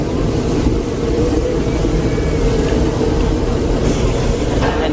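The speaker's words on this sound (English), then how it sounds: "And so over here, you can see is a train passing by" A zoo train at Henry Doorly Zoo rumbles past nearby, a dense, steady low-pitched roar that fills the whole moment without speech.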